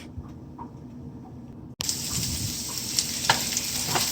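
Okra frying in a pan and being stirred gently, a steady close sizzle with scraping spoon strokes, growing louder and brighter after a brief cut partway through.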